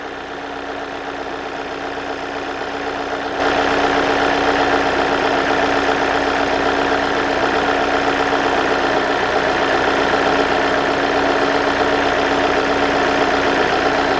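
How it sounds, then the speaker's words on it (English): A Hyundai Sonata engine running rough at idle, with codes P0011 and P2006 pointing to a faulty solenoid, drones steadily and close with a constant hum that grows louder partway through and stays even, with no voices. "So I'm gonna go in the vehicle and turn off the engine"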